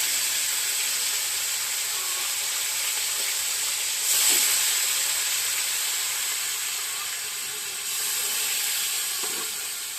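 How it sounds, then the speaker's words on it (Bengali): Bombay duck fish fries in hot oil with a steady, loud hiss and sizzle that carries on without a break, swelling briefly twice as pieces shift in the pan. "গরম তেলে মাছটা ছেড়ে দেব।"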